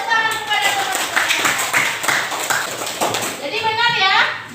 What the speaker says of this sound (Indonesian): Ya, boleh tepuk tangan kepada teman-teman.